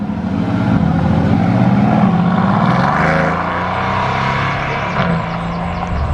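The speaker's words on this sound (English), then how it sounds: "One of the Mercs is off, I'll make sure to get that leaving." A deep Mercedes V8 car engine rumbles steadily close by as the car pulls away from a car meet, with a broad roar and some wind noise.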